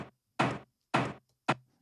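Processed door slam effect with EQ: three separate heavy, buzzy thuds spaced about half a second apart, each with a short decaying tail, close and isolated.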